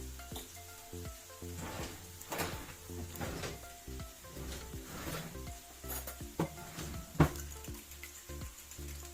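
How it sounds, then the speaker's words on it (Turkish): Eggs whisked for a vegetable egg breakfast dish, six eggs beaten with salt: steady, rapid scraping and tapping strokes in a bowl, continuous and close, with a few louder knocks. "İyice çırpacağım."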